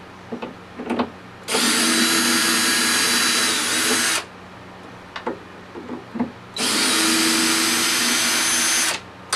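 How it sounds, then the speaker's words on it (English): A heavy-duty screw gun backs screws out of a 10-inch diamond rock saw in two sustained, loud whirring bursts of about three seconds each, separated by quieter handling clicks and knocks. "I would recommend unscrewing these in advance with something heavy duty like a screw gun"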